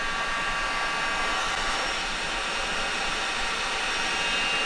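A heat gun blows steadily on the top of a plastic rat bait station, a constant loud airy roar with no breaks, heard up close and alone.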